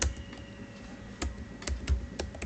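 Typing on a computer keyboard, quiet irregular key clicks and taps close by, with no voices over them.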